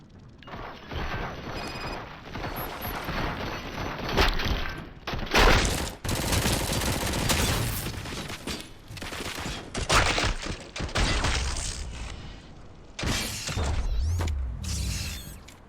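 A volley of gunfire rattles out, with dense bursts of overlapping shots, clanking and crashing debris that come and go in loud waves for several seconds, and no voices.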